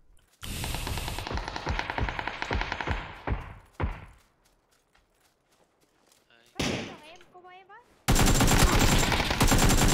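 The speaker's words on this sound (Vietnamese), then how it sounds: "Nó đang bắn ai, nó bắn ai nè." Rapid automatic gunfire in a video game rattles loudly in bursts, then stops for a quiet stretch before more shots and a final sustained loud barrage; voices can be heard in between.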